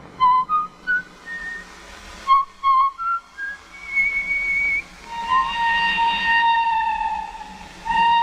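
Man whistling a Viennese waltz in a 1943 spy training film, clear melodic phrases in short separated notes that flow into longer sustained lines, close and alone with no talking.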